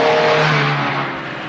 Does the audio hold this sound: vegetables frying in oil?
no